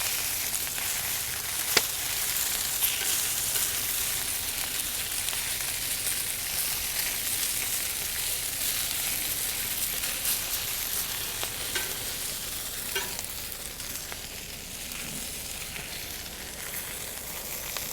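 Hispi cabbage sizzling on a hot grill, a steady, dense crackling hiss that runs unbroken, close and loud, with no voices.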